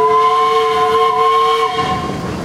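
Steam whistle on an 1883 Nicholson Shepherd 10 horsepower steam traction engine in a parade, one loud steady blast with a hissing edge that cuts off into lingering steam hiss.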